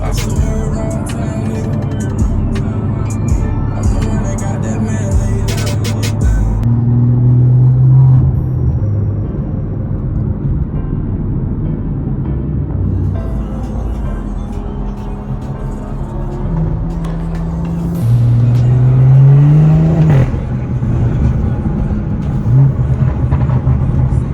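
A BMW 340i running on race gas revs hard on the road, engine rumbling and rising in repeated pulls with gear changes, loud and close, with someone talking at times.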